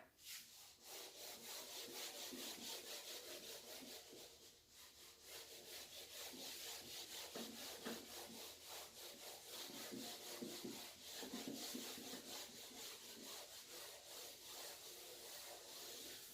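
A duster rubs chalk writing off a classroom board during a physics lesson, giving steady, close, rhythmic scraping strokes that run continuously for about sixteen seconds with no talking.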